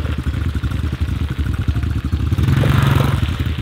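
A small pit bike engine runs steadily while riding out on thin ice, a continuous mid-pitched buzzing drone that swells slightly toward the end, close and loud without talk.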